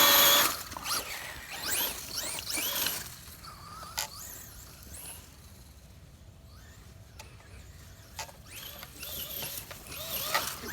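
Brushless Traxxas Slash RC truck launching across grass, its electric motor giving rising whines and bursts that come and go, loud at first and then fainter with distance.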